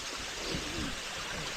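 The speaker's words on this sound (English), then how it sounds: "So here we are at Moss Force Waterfall." Moss Force waterfall pours and rushes as a constant broadband roar of falling water, loud and close, with no break across the short stretch.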